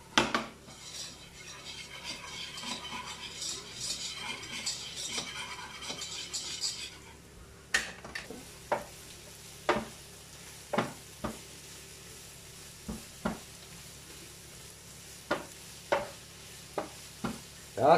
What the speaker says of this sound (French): On met la farine et on sèche la farine pour la béchamel.